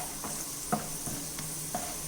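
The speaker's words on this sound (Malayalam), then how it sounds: "ഇതെല്ലാം ഞാനൊന്ന് വറുത്ത് കോരി മാറ്റി വെക്കട്ടെ." Quiet sizzling of cashews and raisins frying in ghee in a pan, with a few soft stirring scrapes spaced across the short stretch.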